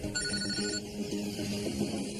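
A mobile phone rings with an incoming call inside a moving car, a bright repeating electronic ring tone that stops early while road rumble and a vibrating buzz continue underneath.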